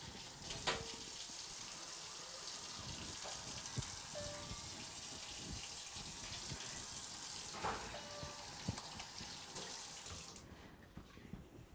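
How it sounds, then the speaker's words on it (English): Hands are washed under a running tap, with a steady close stream of water splashing into a sink and a few small clatters before the flow stops near the end. "Before we handle the food though, we do need to go and wash our hands."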